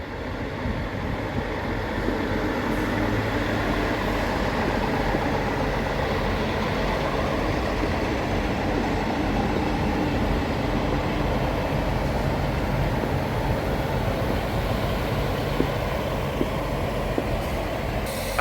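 A train pulls away from Crossgates station with a steady, loud rumble of engine and rolling wheels that holds constant throughout, with no talking.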